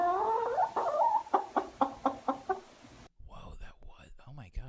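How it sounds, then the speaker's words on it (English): A run of rhythmic chicken clucks, about six evenly spaced sharp bursts at moderate volume, followed by a brief stretch of close speech. "That's a very, very good chicken sound."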